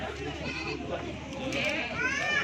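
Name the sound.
goat bleating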